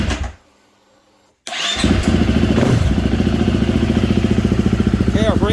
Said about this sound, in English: So let's go ahead and start the bike and see what our brake light's doing.